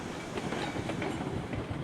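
Train cars roll past steadily in Railroads Online, with rhythmic clickety-clack wheel beats and rumbling rail noise, close and continuous throughout with no speech.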